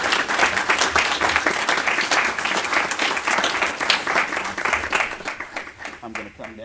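A city council meeting crowd in Villa Rica applauds a former mayor who served from 1992 through 2004, a steady, full round of clapping that thins out near the end as a voice begins to talk.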